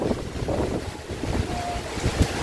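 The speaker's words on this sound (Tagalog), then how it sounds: "Mga hampas ng hangin na malakas." Powerful typhoon wind gusts batter the microphone outdoors, a continuous loud rushing roar with heavy low-frequency buffeting and sharper gust surges toward the end.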